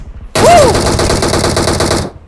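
Rapid automatic gunfire in a multiplayer shooter game, a loud sustained burst of tightly spaced shots starting abruptly and running for under two seconds before cutting off.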